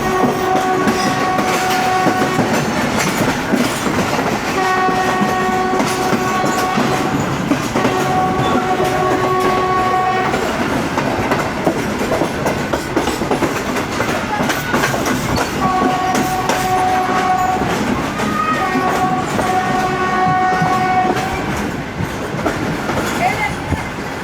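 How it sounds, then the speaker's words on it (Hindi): A down train passes at Drigh Road junction in Karachi, a steady rumbling rush of wheels and carriages with recurring horn-like tones sounding across the whole stretch, loud and continuous. "ड्रेग रोड जंक्शन पर हमें एक डाउन ट्रेन ने क्रॉस किया।"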